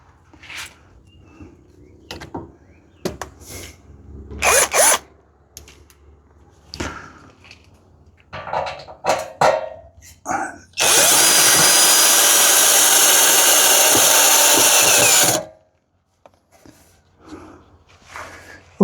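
Power drill driving screws into wooden stairs during a repair, scattered knocks and handling clatter, then one loud, steady drill run lasting about five seconds close by, followed by quiet.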